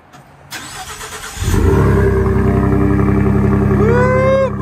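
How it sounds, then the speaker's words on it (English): Cold start of a truck engine fitted with a carbon muffler-delete exhaust: starter cranking, then the engine catches with a loud, raspy roar and settles into a rumbling idle, recorded up close. "I thought maybe you guys would enjoy a little cold start"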